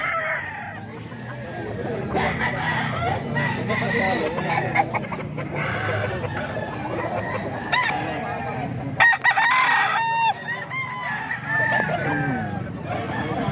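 Gamefowl roosters crow and cluck repeatedly close by, with other birds calling at a busy fowl market or yard, and voices chatter underneath.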